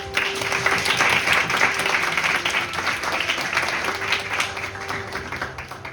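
An audience at the closing ceremony of a student association's model UN conference applauds as the association president comes forward, a steady roomful of clapping that carries evenly for six seconds and eases slightly toward the end.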